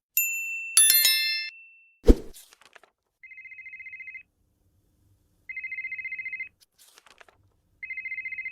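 A phone ringtone chirps in three repeated electronic bursts, each about a second long and separated by short gaps, following some earlier chimes and a sharp knock, with no voices.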